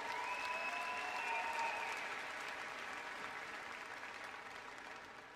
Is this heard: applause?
yes